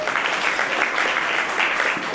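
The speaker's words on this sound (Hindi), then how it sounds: "पहला शक्ति के लिए एक बार जोरदार तालियां बजा दें" An audience at an Arya youth organisation's foundation day gathering breaks into loud, rhythmic clapping that stays full and even, with faint voices underneath.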